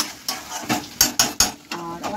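Mutton curry being stirred in a pot, a spoon scraping and knocking against the metal in quick uneven strokes, with a soft sizzle beneath, close and fairly loud.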